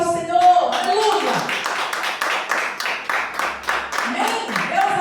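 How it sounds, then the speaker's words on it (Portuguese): A church congregation claps along in rhythm during a worship service, steady hand claps running under singing and spoken praise throughout. "As palmas glorificam ao Senhor."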